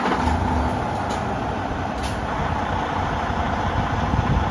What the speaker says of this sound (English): I know everybody watching this loves the sound of a truck